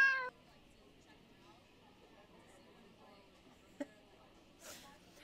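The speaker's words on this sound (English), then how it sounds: "he meows" A cat meows in a short high cry at the start, then a quiet stretch of faint room noise with a small click and a brief later sound.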